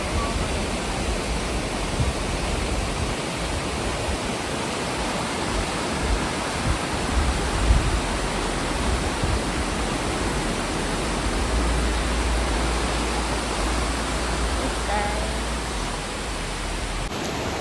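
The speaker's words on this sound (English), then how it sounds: "And then I have the river running over there." River water running by a riverside in Jamaica, a steady broadband rush that stays constant and fairly soft throughout with no voices.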